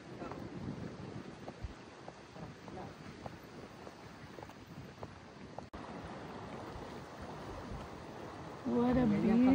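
Wind gusting by a lake, a steady rushing buffet across the microphone with a low, soft rumble of water beneath, and a voice speaking briefly near the end.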